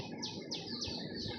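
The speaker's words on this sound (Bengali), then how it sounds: "সকালবেলায় উঠে যখন এই পাখির ডাক শুনি" In the early morning, a bird sings a few sweeping, descending chirps in quick succession against a busy background of other birdsong.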